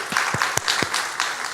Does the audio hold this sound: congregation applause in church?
yes